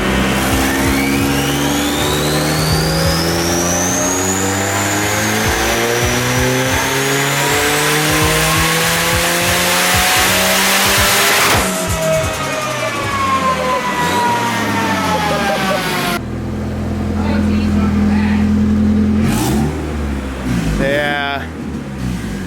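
A twin-turbo car engine revving hard with boost raised, a loud continuous climbing and falling engine whine with turbo whistle, ending in quieter bursts with voices.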